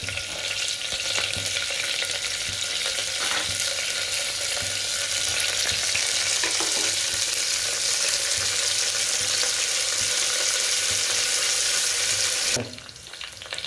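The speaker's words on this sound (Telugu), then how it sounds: "ఫ్రై చేసుకోవాలి ఫ్రెండ్స్ ఒకసారి, ఒక 1-2 మినిట్స్." Curry leaves, mint and chilies fry in hot oil for a vegetable khichdi, giving a loud, close, continuous crackling sizzle that holds steady for about twelve seconds before dropping off abruptly.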